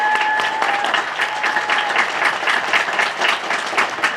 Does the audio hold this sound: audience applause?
yes